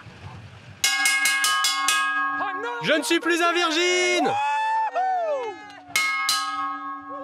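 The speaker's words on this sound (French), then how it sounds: "En tapant sur cette cloche" A large bell is struck hard several times, each blow leaving long ringing tones, with a voice speaking over the resonance.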